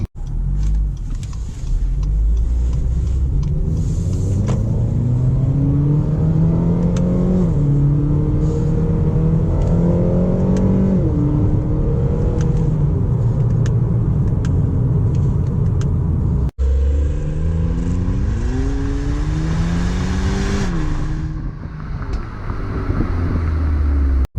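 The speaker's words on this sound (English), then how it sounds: "you put your foot to the floor and you just get a lot of grunt from that Inline Four" A 2017 Acura ILX inline-four engine drones loudly and steadily with rising revs as the car accelerates, heard from inside, with a brief drop before the pitch climbs again.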